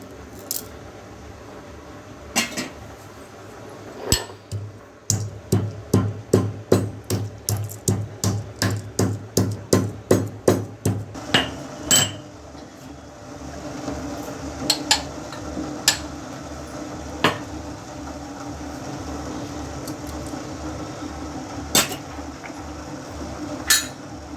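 Cardamom pods pounded for gulab jamun syrup: a rapid run of about twenty sharp, close metallic strikes, then slower scattered knocks with pauses, no voices.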